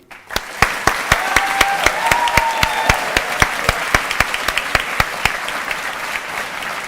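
A graduation audience breaks into loud, sustained applause with distinct sharp claps throughout, close and dense.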